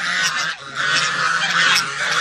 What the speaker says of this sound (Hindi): डक्स पाली हुई है उन्होंने